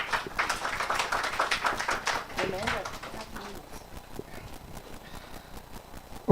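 Applause from a symposium audience of clinical officers in a hall, a dense patter of clapping that swells then thins out over several seconds, ending with a sharp knock.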